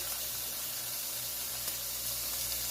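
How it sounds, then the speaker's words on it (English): Steady, quiet sizzling hiss of bacon frying in a pan, continuous and even with no voices. "we're going to be starting off frying up some bacon"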